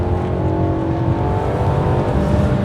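A BMW F30 330i with the B48 engine accelerating hard from a standstill to 100, heard from inside as a loud, steady engine drone and road roar that climbs gradually, with no voices.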